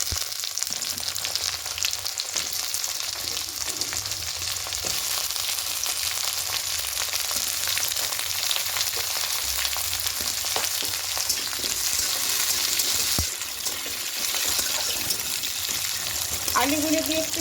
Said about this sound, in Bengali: আলুগুলো দিয়ে একটু ভেজে নেব।